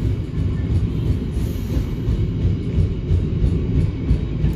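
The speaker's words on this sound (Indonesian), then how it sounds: "Itu kereta apa itu ya?" A train passes close by with a loud, continuous rumbling roar of wheels and carriages that holds steady throughout.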